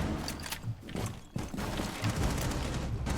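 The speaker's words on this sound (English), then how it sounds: "Some gunfire coming out, and Mute is below with the shotgun." Quiet bursts of gunfire from a Rainbow Six Siege collegiate esports match, a cluster of sharp shots and rattling volleys spread irregularly across the moment.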